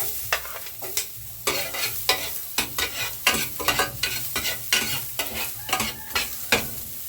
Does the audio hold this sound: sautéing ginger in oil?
yes